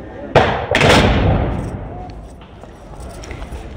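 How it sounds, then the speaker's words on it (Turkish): Two sharp loud blasts in quick succession, followed by a rumbling decay and lingering noisy background, as a smoking outdoor electrical transformer explodes and catches fire. "Bir süre daha dumanların yükseldiği trafoda patlama meydana geldi."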